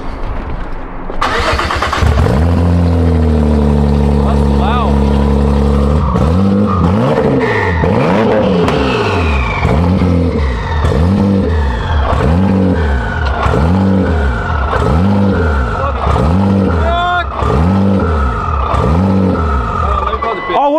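A tuned car engine cranks and fires, idles roughly, then is blipped in a steady rhythmic series of sharp revs, loud and close, with people talking nearby.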